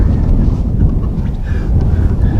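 Strong gale-force wind buffets the microphone on an open golf course, a steady loud low roar with gusting swells throughout and no clear voices.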